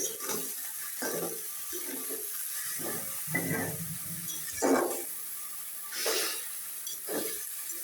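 Splashes of water hit vegetables cooking in a hot pan for a Bengali bhaji, giving a series of short hissing, steaming bursts over a low, steady background sizzle.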